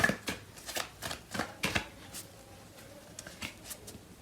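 Tarot cards being shuffled by hand for a love reading, a series of crisp riffling slaps and card flutters in an irregular rhythm, close and fairly quiet, with no talking.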